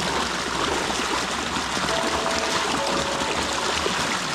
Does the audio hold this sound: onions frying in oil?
no